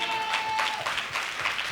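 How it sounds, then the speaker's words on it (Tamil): A church congregation at a Sunday service claps together, a steady wash of many hands applauding at moderate distance, continuing evenly for a couple of seconds. "கைதட்டுங்க பார்க்கலாம்."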